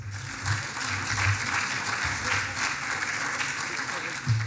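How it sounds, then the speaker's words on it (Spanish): Audience applause welcoming a speaker at an agro-industrial talk on drying European hazelnuts, a steady wash of many hands clapping at moderate distance, continuous throughout with a low hum beneath. "Lo recibimos con un fuerte aplauso"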